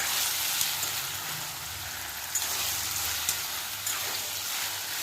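Vegetables for ridge gourd sabzi frying in a pan, a steady bright hiss of sizzling oil with a few soft clicks as they are stirred, close and continuous.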